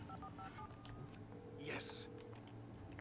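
A telephone dialed in the video game Alan Wake, a quick series of clear electronic keypad beeps up close, with soft game background sounds and a brief burst of noise.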